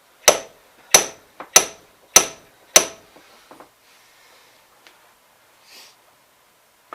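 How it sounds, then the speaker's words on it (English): A regular steel hammer strikes a hydraulic cylinder during a Terramite T1 rebuild, five sharp, evenly spaced metallic blows close to the mic, then a few lighter taps and quiet handling. "I just have a regular hammer."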